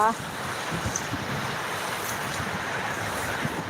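Rain falls in a strong wind, making a steady, dense roar of gusting air and pouring water that stays loud and unbroken throughout.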